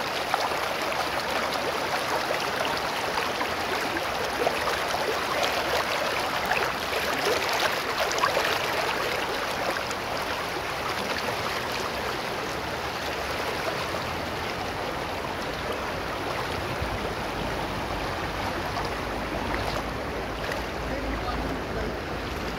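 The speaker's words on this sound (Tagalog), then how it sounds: "Agos eh." Cold river water flowing in a steady, broad rushing wash that stays loud and even throughout, with no clear voices.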